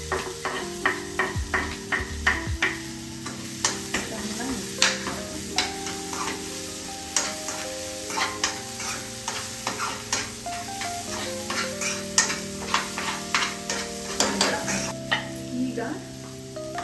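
Broccoli and potatoes fry in a pan with a quiet continuous sizzle, broken by frequent rhythmic taps and scrapes of a spatula stirring against the metal.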